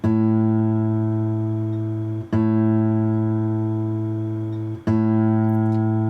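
A plucked guitar string rings out and sustains during tuning, re-plucked twice at even intervals, each steady tone slowly fading before the next pluck.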